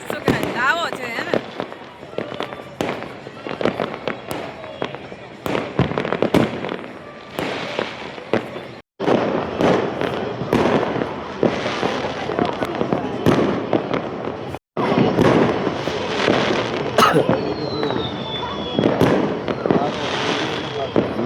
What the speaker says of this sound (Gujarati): સતત 1 કલાકથી આવા નવા ફટાકડા ફૂટે છે